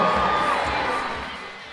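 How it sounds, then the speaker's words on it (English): Stadium crowd cheering and shouting at a live event in Louisville, a broad roar with whoops, steady and fairly loud before easing slightly. "As the crowd goes wild"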